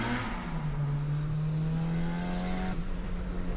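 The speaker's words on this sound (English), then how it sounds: "You can hear the turbo." A 1998 Honda Civic VTEC with a turbo conversion accelerates through a tunnel, its engine drone rising steadily in pitch with a faint turbo whistle above it, loud and continuous from inside the car.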